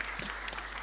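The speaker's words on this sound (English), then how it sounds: "Please give yourself an appreciation by clapping your hands." A brief burst of audience clapping at a seminar on women's economic participation, a soft, moderately distant patter lasting under a second.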